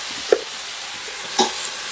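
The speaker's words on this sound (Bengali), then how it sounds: "ভালো করে শুধু ভেজে নেবো। নেড়ে চেড়ে এটা ঢাকা দিয়ে দেবো" Mixed vegetables frying in a pan in a rural Indian village kitchen, a soft steady sizzle broken by two brief scraping clinks of a spatula stirring them.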